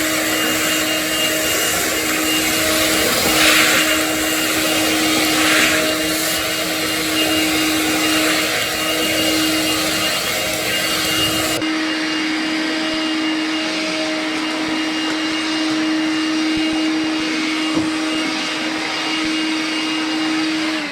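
Makita XLC02ZB 18V cordless vacuum fitted with the Makita Cyclone attachment sucking sawdust off mats, a loud steady whine that runs continuously, shifting in tone about halfway through, with no talking.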